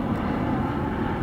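Airplanes flying over a river pass overhead as a steady, loud broadband engine roar, continuous and without breaks, heard from a sailboat heading upriver.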